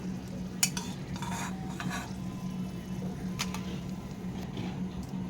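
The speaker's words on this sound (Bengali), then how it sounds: "লঙ্কাটাকে আমি ভেজে নেব দেখুন লঙ্কাটা আমার লাল লাল হয়ে গেছে" Chilies frying in mustard oil in a pan give a faint, steady sizzle, broken by a few soft scraping stirs, heard close and quiet with no voices.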